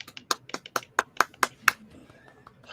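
A handful of show hosts on a video call clap for their chat audience: about nine sharp, close claps in quick succession, then fading to faint room noise.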